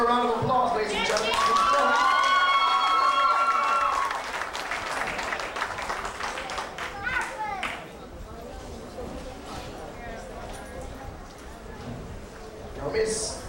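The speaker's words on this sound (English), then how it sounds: "Give her a round of applause, ladies and gentlemen." An audience applauds at a children's pageant and talent show, the clapping mixed with crowd chatter, music and talk, loudest at the start and tapering off as speech continues.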